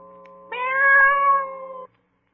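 A cat sound effect in an old-time radio drama gives one drawn-out, clear meow that rises and then falls, lasting well over a second. It sounds close and stands alone with no talk over it.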